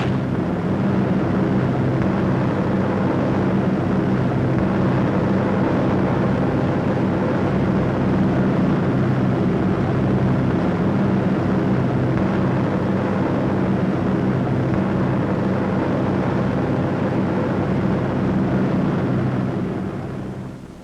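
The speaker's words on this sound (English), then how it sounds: "Feathering its prop, this fortress limps back." Flying Fortress bomber engines in flight, with one propeller feathered, give a steady loud droning roar with dense low harmonics that holds unbroken for about twenty seconds.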